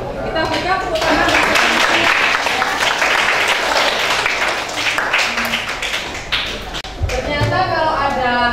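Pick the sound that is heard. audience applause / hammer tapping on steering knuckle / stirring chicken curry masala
audience applause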